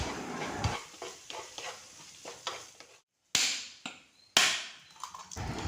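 Onion, green chili and tomato are stirred and fried in a pan for breakfast, heard as close scraping strokes and soft sizzling in an irregular rhythm, with two sharp louder clatters near the end.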